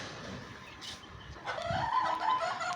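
Poultry chickens cluck in a short, close burst that grows louder near the end, over a low background murmur.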